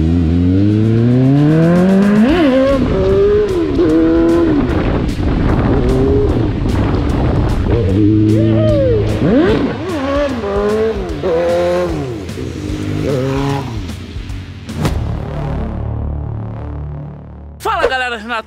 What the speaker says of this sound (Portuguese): hoje eu vou tentar voltar a empinar de Hornet